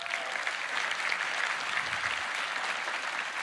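Steady applause from a conference audience at the Roblox Developers Conference keynote 2024, a dense even patter of many hands heard from a moderate distance without talk.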